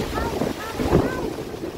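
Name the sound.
strong wind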